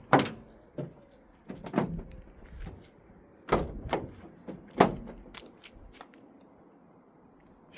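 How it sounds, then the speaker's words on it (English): Van doors opened on a vehicle loaded with goods, giving a run of sharp clunks, latch clicks and bangs at irregular intervals, fairly close, with quieter rattles between and no talking. "Would you like me to open these doors and we can see what it is we've picked up today?"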